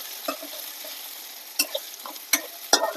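Onions frying in oil for chicken curry, a soft crackling sizzle punctuated by three or four sharp spatula scrapes and knocks against the pan, close by and without talk.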